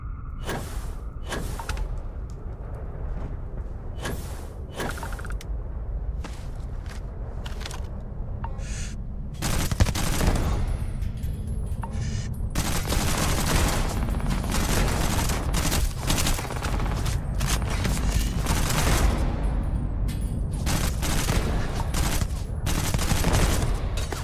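Repeated rifle fire from an AK-74 mod in Starfield, with sharp bursts and single shots cracking at intervals, then a denser, sustained stretch of gunfire in the second half, loud and close.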